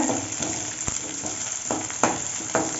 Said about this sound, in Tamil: ஒரு 150 கிராம் அளவுக்கு சின்ன வெங்காயம், இது நல்லா பொன்னிறம் ஆகிற வரைக்கும் வறுத்து விட்டுக்கோங்க.